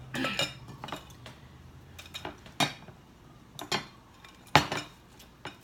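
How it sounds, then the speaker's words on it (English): Dishes, manicure tools and a finger bowl are washed, giving sparse, quiet clinks and clatters of metal and glass spaced a second or so apart, with no talking. "And when I've washed everything, including the finger bowl,"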